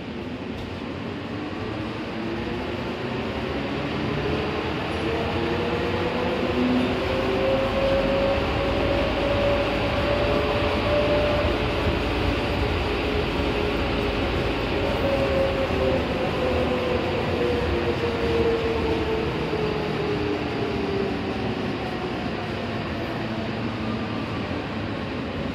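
Steady rumbling ride of an airport tram at Harry Reid International Airport, Las Vegas, a continuous drone with a faint rising and falling whine, no voices.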